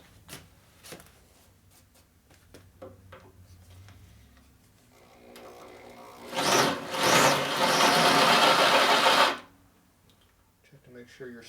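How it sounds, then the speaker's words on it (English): A big drill press in a shop spins up for about three seconds as a loud, steady broadband whir, after some quieter clicks and handling noises, with a person speaking briefly. "now we're going to go up to our big drill."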